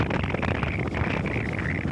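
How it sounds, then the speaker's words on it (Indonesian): Wind at sea buffets a three-engine boat under way, a continuous gusty rushing noise with rumbling low end and no talking. "hanya sedikit kendala angin"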